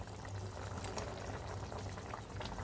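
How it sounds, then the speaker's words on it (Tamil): A pot of fish curry (meen kulambu) at a full boil, a dense continuous bubbling and gurgling heard close up, quiet overall and with no voices. "நல்லா கொதி வந்துருச்சு."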